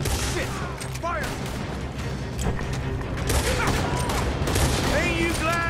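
Red Dead Redemption 2 gunfire crackles in a dense, continuous fusillade of rapid shots and ricochets. Shouting voices and whistling tones run through the barrage.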